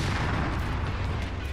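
Heavy gunfire in the video game Resident Evil Requiem, a dense continuous rumble of rapid booming shots fired at very close range, loud and unbroken throughout with no talk over it.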